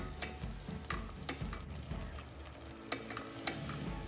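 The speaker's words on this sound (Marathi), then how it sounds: "हे बघा पाक असा आळत चाललेला आहे." Raw mango and jaggery syrup bubbling and thickening in a pot for traditional gulamba jam, a low, continuous simmer with soft irregular pops and occasional stirring scrapes, close and fairly quiet.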